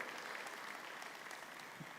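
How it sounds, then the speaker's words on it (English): Audience applause at a corporate car-launch event, with dealer partners among the crowd; steady, moderately distant clapping that continues evenly throughout. "I would like to take a moment to applaud the contribution of each and every member of this great team"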